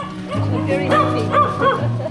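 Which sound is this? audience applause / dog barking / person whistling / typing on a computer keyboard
dog barking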